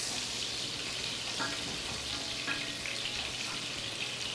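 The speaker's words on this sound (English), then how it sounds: "So I'll just quickly take some chopped onions and I'll throw in some of that chopped onion." Chopped onions sizzle and fry steadily in a hot pan, a continuous broadband crackle at close range with a couple of brief clinks partway through, no voices over it.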